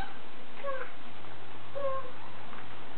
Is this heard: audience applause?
no